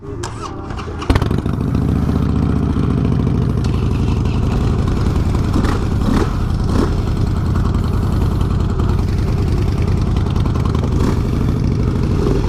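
A Harley-Davidson Dyna Low Rider S motorcycle fires up with a sharp start, then settles into a loud, steady close-up idle with a couple of light blips, no voices.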